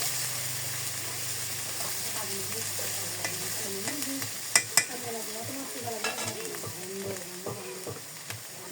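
Coriander, cumin and ginger fry in a pan with a continuous soft sizzle, while a utensil scrapes and stirs in uneven strokes, broken by a couple of sharp clacks near the middle.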